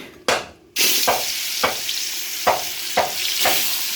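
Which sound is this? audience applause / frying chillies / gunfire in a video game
frying chillies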